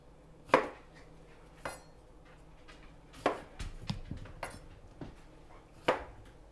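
A knife cuts strawberries into quarters on a board for rhubarb pie, giving about half a dozen sharp, close knocks spaced irregularly, with faint handling noise between them.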